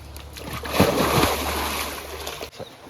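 Cold water splashes and sloshes as someone bathes in a shallow village stream during heavy rain season, with close, fairly loud splashes in bursts over a continuous watery rush.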